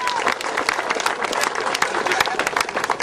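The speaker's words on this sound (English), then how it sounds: "give him another round of applause" A crowd claps loudly for a wide receiver announced at a football camp event, dense rapid clapping with crowd noise throughout, close and steady.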